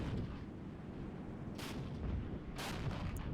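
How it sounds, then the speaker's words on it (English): Enemy artillery fire in the war game Regiments: two muffled blasts land about a second apart over a steady, low, rumbling battlefield background, distant and fairly faint. "Enemy artillery is still coming in."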